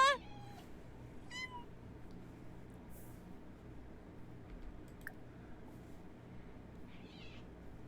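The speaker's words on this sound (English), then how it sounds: "In case any of you are hearing those tire squealing sounds in the background, that's actually one of our cats." A pet cat's meows sound in the background at an otherwise quiet indoor setting, brief high calls near the start and again around the middle, faint and intermittent over low room noise.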